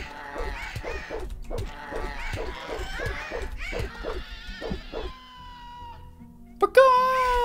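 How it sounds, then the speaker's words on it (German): A cat meows in a rapid series of about ten short, harsh, caw-like calls. A higher drawn-out tone and a sharp click follow near the end. "Echt klingt deine Katze wie ein Scavenger."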